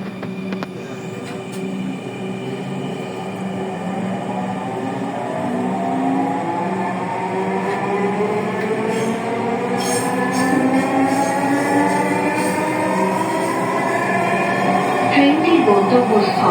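A Dhaka metro rail train bound for Uttara North runs at speed, a loud steady rumble inside the car with electric motors whining in long rising and falling tones, plus occasional wheel squeal and rattles near the end.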